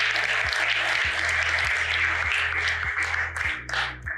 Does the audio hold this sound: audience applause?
yes